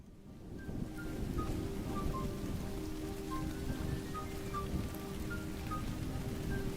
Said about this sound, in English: These raindrops aren't necessarily, like, fitting with the rest of the pixel art